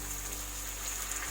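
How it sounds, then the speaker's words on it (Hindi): About half a cup of water goes into a simmering egg masala curry, giving a brief, steady splashing hiss. "अब इसमें हम डालेंगे थोड़ा सा पानी"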